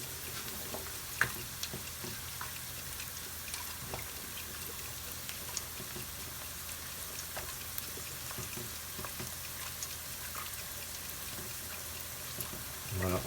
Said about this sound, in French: on va laisser cuire les pâtes tranquillement pendant 8 minutes